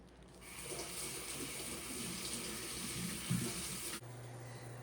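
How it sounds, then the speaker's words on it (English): Tap water running steadily into a sink while hands are washed, a soft continuous hiss at low level that cuts off near the end and leaves a faint hum. "Let me wash my hands."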